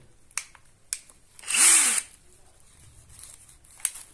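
An Einhell impact drill whirs in one short, loud burst lasting about half a second, with a few faint clicks and knocks before and after it.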